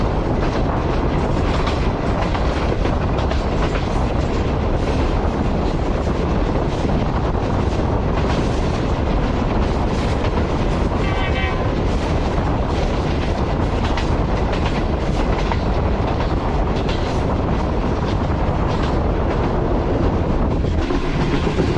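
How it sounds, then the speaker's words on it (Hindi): A passenger train rolls through Sohawa railway station, heard loud and close from on board with continuous clattering wheels and rumble plus wind noise throughout. "ट्रेन अभी हमारी पास थ्रू हो रही है सोहावा रेलवे स्टेशन से"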